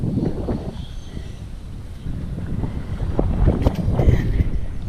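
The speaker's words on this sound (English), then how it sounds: "I'll film it coming back with the wind on my back." Wind buffets the microphone in heavy, uneven gusts during an outdoor walk near a cove with a pier, a low rumbling roar that grows stronger toward the end.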